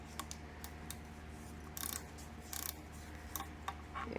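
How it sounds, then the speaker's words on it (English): A ratchet turns a stuck bolt while taking apart a 1940s Singer 66 sewing machine with a Godzilla finish: a few short, sharp clicking bursts, close by, over a steady low hum. "let's put the ratchet on it"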